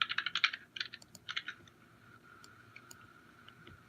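Fingers tap a physical desktop computer keyboard close by in a quick, uneven burst of keystrokes, then slow to a few sparse, quiet clicks over a faint background hum.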